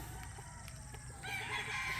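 Chickens on a Filipino farm, with a rooster crowing faintly in the distance, its drawn-out call rising over low, steady background noise in the second half.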